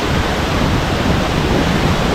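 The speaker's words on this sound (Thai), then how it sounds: "ตอนนี้น้ำเยอะมากเลยน้ำตกสวยมากเลยอะ่ะดู น้ำเต็มหน้าผาเลยนะครับ" Pha Charoen waterfall in Phop Phra, Tak, running very full over a cliff face, a steady, loud, close roar of pouring water with no break and no voices.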